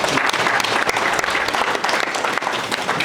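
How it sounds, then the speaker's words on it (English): Steady applause for the chairman at a credit union's annual general meeting, a dense, continuous wash of clapping from a room full of attendees. "Round of applause for the chairman."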